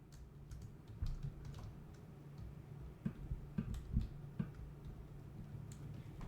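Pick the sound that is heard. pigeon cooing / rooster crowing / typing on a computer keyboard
typing on a computer keyboard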